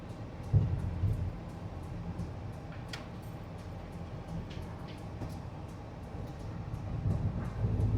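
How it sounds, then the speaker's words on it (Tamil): A low, steady rumble of a train rolling past in Sri Lanka, with a rhythmic rattle of cars and faint ticking clicks above it, swelling slightly toward the end. "ட்ரெயின் இன்றைக்கு தான் ஓட தொடங்கிச்சு"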